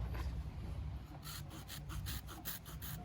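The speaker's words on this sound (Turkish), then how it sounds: "Şimdi bunu testeremizle bir keselim" A hand saw rasps quickly through a thin walnut scion cutting, a series of short, even back-and-forth strokes, quiet and close.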